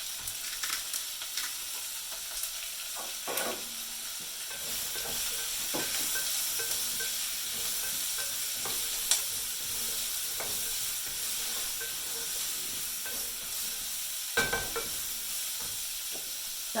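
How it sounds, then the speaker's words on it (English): Onions, salted, sizzle steadily in a pan for taco night, a constant close hiss broken by scattered scrapes and knocks of a utensil stirring them, with no talking. "The onions are going to cook until they're just a little bit brown, a little bit translucent"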